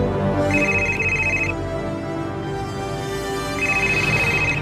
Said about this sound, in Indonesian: Rehan pasti telepon Umi